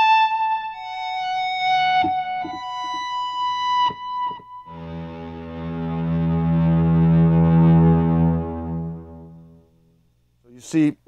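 Electric guitar notes fade in through an Xotic Effects volume pedal, giving a smooth, synth-like violin swell. A few plucked tones come first, then one long, loud chord rises and holds for several seconds before dying away.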